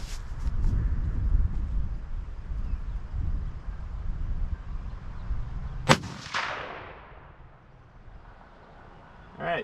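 A single loud crack from a Ruger American Gen 2 rifle in 6.5 Grendel rings out midway, outdoors in wind, its echo rolling off into the distance before quiet returns.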